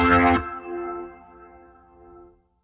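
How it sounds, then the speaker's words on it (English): A short overdriven organ chord from a Boss Organ Lunchbox cuts off abruptly, leaving a long, clean reverb tail that rings and fades over about two seconds. "The reverb is clean, but the organ signal's overdriven."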